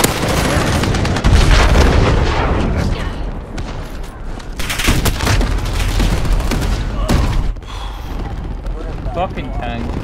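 Tank cannon fire and surrounding gunfire in Call of Duty: Modern Warfare's Ground War mode on the Krovnik Farmland map, loud heavy booms and repeated sharp shots layered over battlefield noise, with a player talking throughout.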